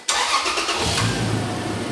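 A Toyota Tacoma truck engine turns over and fires up abruptly, then runs at a rough, loud idle close by.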